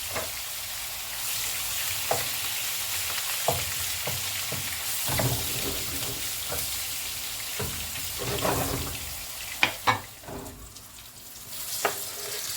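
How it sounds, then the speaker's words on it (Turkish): Eggplants fry in oil beside a steady sizzle, punctuated by sharp clinks and scrapes of a utensil against the pan at irregular intervals. "Patlıcanlarımız da kızardı."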